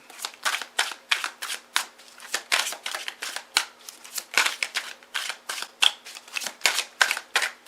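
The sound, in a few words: shuffling and drawing playing cards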